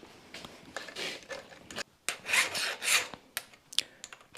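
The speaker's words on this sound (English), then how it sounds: "now I'm going to use this raker gauge and a flat file" A flat file is drawn through a raker gauge across the rakers of a STIHL MS261 CM chainsaw chain. It gives a series of close, dry rasping strokes with brief pauses between them and small metallic taps at the end.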